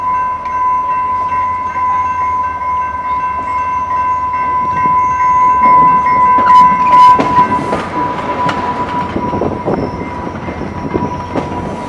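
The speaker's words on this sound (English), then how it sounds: "I rode this train at 6:35 from Berlin, all the way out here" A Rail Runner commuter train rolls along the tracks with a steady, loud rumble and a sustained tonal whine, and rhythmic wheel clatter grows busier midway through.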